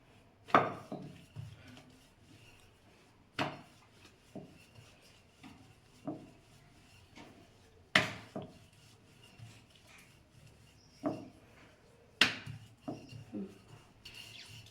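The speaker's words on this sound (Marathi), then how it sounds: "हा असा घ्यायचा गोळा छान लाटून घ्यायचा हलक्या हाताने घ्यायचा" Stuffed potato paratha dough being rolled out with a rolling pin on a board, heard as soft rubbing strokes with sharp wooden knocks at irregular intervals, close and fairly quiet with no talking.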